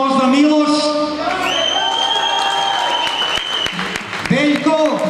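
At a bodybuilding competition, the audience claps and cheers from a large crowd, sustained applause running beneath an announcer speaking loudly over a PA with pitched tones.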